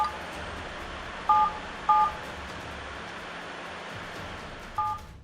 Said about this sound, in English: this phone apparently waits until Michael is almost finished recording and then hits a completely different number, followed by 2 sevens and an asterisk